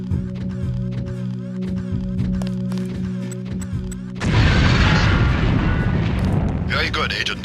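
A demolition lamp detonates after falling to the ground in Deus Ex: The Conspiracy on PS2. A steady tonal hum gives way to a sudden loud blast that roars on as a dense, sustained rumble.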